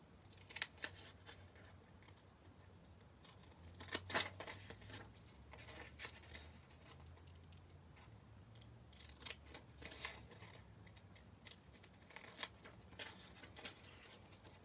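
Scissors snip steadily through fabric pieces for a Dresden plate quilt, with quiet repeated blade closes and soft rustling of cloth, close by and without talk.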